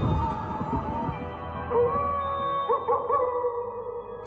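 A cartoon dog in an animated Gravity Falls episode lets out a long, drawn-out howl with wavering, rising pitches and short breaks, fairly clear over a low background hum.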